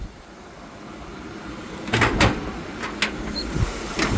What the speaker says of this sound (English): Doors open and close nicely.